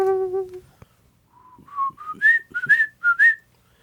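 A person whistles a short phrase of The Entertainer up close, clear notes stepping upward in a bouncy rhythm after an opening held tone.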